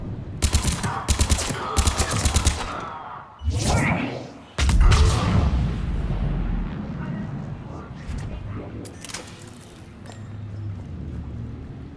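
Rapid bursts of automatic gunfire crackle loudly in a Mass Effect 3 firefight, with dense volleys early on giving way to scattered shots and whooshing impacts, while a voice speaks over the action.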